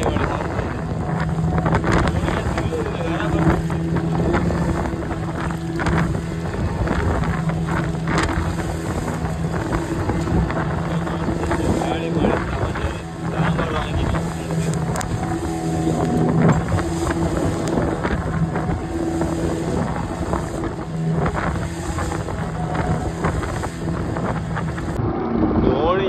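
Wind and rain buffet the microphone in a loud, continuous roar with a low rumbling underneath, lasting without pause throughout.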